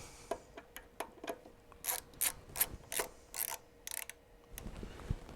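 A socket wrench ratchets in quick bursts of clicks while snugging bolts on a vacuum cleaner, the short runs of clicking close and moderately loud with brief pauses between them.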